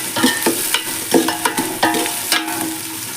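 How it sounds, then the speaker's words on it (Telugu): Two large, thinly sliced onions frying in a pan for goat head curry sizzle up close, with rhythmic scrapes and knocks of a spatula stirring them. "మంచిగా వేయించుకోండి"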